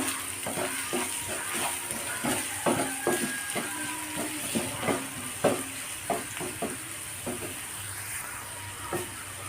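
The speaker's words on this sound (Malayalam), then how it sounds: "നന്നായിട്ട് ഇളക്കി കൊടുക്കാം" Semiya biryani ingredients are stirred in a pan, with repeated scraping and knocking strokes of a spoon over a soft, steady sizzle, close and moderately loud.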